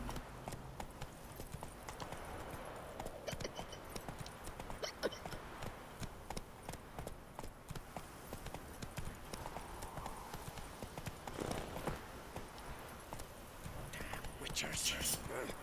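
Steady clip-clop of horse hooves trotting throughout in the video game The Witcher 3, with someone talking over it and ambient background sound.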